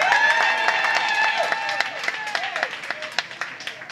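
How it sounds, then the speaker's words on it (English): Audience at a Chicago Steppin dance event in London giving a round of applause, with scattered claps and crowd cheering over a tonal background that fades as the clapping thins toward the end. "One more round of applause."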